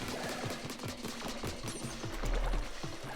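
A bomb bursts in the video game Splatoon 2 among a rapid stream of chattering game effects and shots. A heavier low-end swell around two seconds in marks the blast, loud and close.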